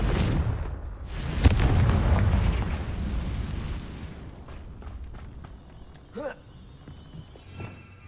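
Confringo fire spell blast in Hogwarts Legacy, a loud booming explosion with crackling fiery burst that fades into lingering rumble and small pops.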